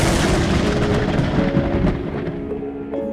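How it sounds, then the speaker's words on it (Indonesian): Distant thunder rolls as a broad, continuous rumble that stays loud and steady throughout before easing slightly near the end, setting a dark mood for a horror tale. "Suara petir menggelegar jauh di langit."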